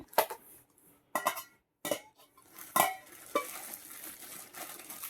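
Steel dinner bowls and their lids clink and clatter against each other as they are stacked and fitted, a few sharp metallic knocks spaced out over a quiet background.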